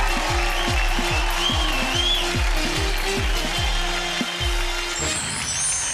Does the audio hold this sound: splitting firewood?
no